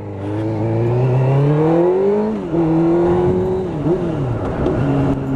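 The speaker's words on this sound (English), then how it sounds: "the engine on this is smooth. It's a fuel-injected 4-cylinder, inline-4, 600cc" A fuel-injected 600cc inline-four engine on a Suzuki GSX-R 600 motorcycle revs loudly and close by. Its pitch climbs, dips, then rises and holds again, with no talking over it.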